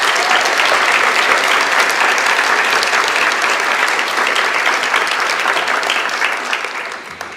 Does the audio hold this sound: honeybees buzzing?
no